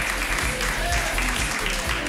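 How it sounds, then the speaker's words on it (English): Audience applause for a contestant at an improv comedy show, a steady wash of clapping from a crowd filling the room, with some voices mixed in. "let's round of applause for Tanya"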